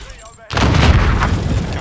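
Grenade blast in the Call of Duty Warzone video game: one sudden, loud, close boom that bursts out after a short quiet moment and rumbles on heavily for over a second.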